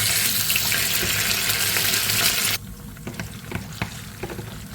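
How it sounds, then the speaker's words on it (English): A tomato and hot pepper mixture is stirred continuously in a hot pan, a loud hiss of frying and watery sizzle that drops abruptly midway to a quieter crackle with occasional scraping clicks. "We will stir continuously until you see this tomato mixture turn a little bit black."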